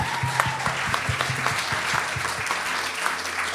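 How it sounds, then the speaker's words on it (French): Church congregation at a Sunday service applauding together, a dense steady wash of clapping that carries on for several seconds with no talk over it. "Alors merci, on peut applaudir le Seigneur."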